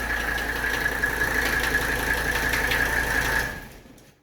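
Engine of a 1985 wagon idling steadily and close with a faint ticking knock, then shut off so the sound dies away in the final second.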